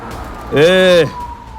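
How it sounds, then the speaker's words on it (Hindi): An ambulance siren sounds in a short, loud wailing burst that starts and stops abruptly over a dim background in a dramatized scene. "पकड़ो रे, वो एम्बुलेंस लेके गया।"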